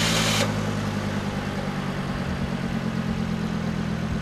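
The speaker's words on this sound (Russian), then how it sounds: "система разрывает соединение и запускает двигатель" A car engine, started remotely by a GSM start system, fires with a short burst and settles into a steady low idle rumble, close and continuous.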